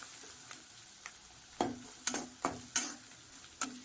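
Vermicelli roasting in a pan for a sweet semiya dessert, stirred with a spoon that makes several sharp scraping clinks over a faint background sizzle, close and alone without talk.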